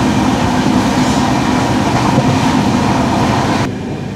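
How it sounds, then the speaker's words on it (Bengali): Inside the Dhauli Express running from Puri to Howrah past Sakshigopal toward Khurda Road, a loud, constant rumble of wheels and carriage noise fills the space and eases slightly at the end. "আমাদের ট্রেন সাক্ষীগোপাল পেরিয়ে গেছে, নেক্সট স্টপেজ হচ্ছে খুর্দা রোড।"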